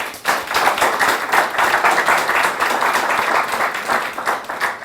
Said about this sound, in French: Ils vont s'applaudir très fort pour cela.